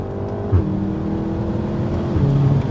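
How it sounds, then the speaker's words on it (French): Tuned 350 hp Volkswagen Golf 7 R with four-wheel drive accelerating, its engine note steady and fairly loud throughout, rising slightly in pitch with a brief swell near the end. "allez, fais une petite accélération là."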